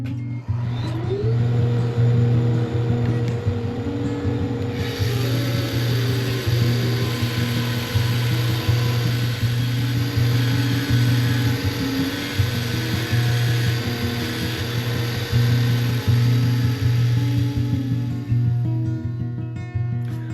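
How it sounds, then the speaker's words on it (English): A bandsaw slices spruce top cutoffs, giving a steady, loud motor drone throughout with a brighter cutting hiss joining partway through and continuing to near the end, with no talk. "I'll take some of these over to the bandsaw and slice some of them up."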